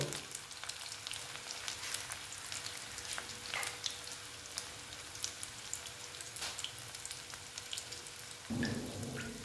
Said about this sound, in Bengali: এই কটা দিয়ে এবার আমি এগুলোকে ভেজে নেব।